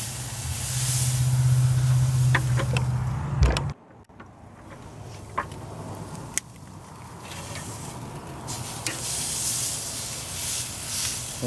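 Santa Maria style tri-tip steak sizzles on a barbecue grill, a steady close hiss that drops away briefly as the meat is turned and then rises again, with a few sharp pops and crackles.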